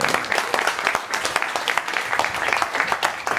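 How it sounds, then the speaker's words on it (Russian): An audience applauds a speaker taking the stage at a master class, a dense, continuous clatter of many hands at moderate loudness, unbroken for the whole stretch. "Аплодисменты."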